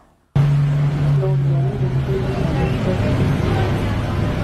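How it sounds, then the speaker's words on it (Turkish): A bus passes on a London street with a loud, sudden engine rumble that stays close and steady, with voices talking nearby. "Londra'da. Otobüs geçiyor."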